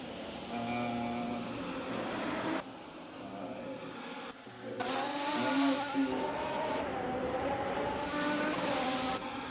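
Sim racing Grand Prix start at a Czech circuit in a video game, with a field of race cars, BMWs among them, roaring off the grid in a dense, sustained engine drone that swells and shifts as the pack accelerates.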